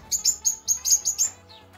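Parrots released into a new aviary give a rapid series of about seven sharp, close chirps in quick rhythm, loud against a quiet background, with no talk.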